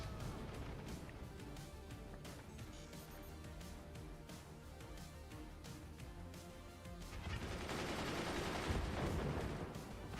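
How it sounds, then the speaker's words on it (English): Heavy mortar fire in a tournament video game match, a dense run of repeated booming blasts and crackling impacts that swells louder and fuller near the end, with no talk over it. "Heavy mortars."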